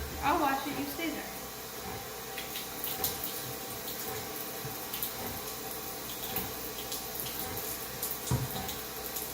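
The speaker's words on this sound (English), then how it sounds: "You gotta wash the spoon because you dropped it on the floor." A tap runs steadily as a dropped teaspoon is washed in a kitchen during baking. The water makes a continuous rushing hiss with small clinks, and voices talk over it.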